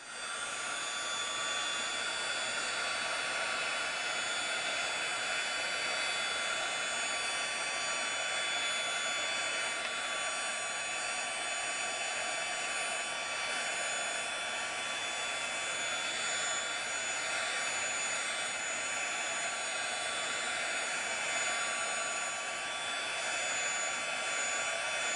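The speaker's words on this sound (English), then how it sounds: "I am going to use my heat gun even though I can't see anything" A heat gun blows steadily on a resin pendant, a constant airy roar with a faint whine that runs unbroken and even in level at moderate distance throughout, with no voices.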